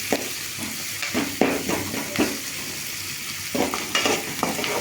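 Chopped tomatoes and green chilli for sambar sauté in a pan, a continuous hiss of frying broken by repeated scraping stirs at an uneven rhythm, close and fairly loud with no talk.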